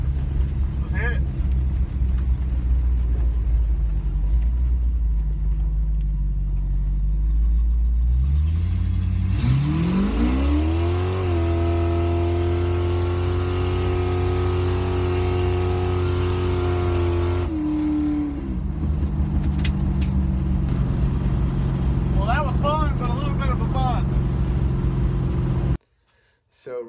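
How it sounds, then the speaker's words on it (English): A car running without mufflers idles roughly, then launches with a loud, raw, rising engine roar for several seconds before backing off, with voices talking around it. "The car does not have mufflers right now."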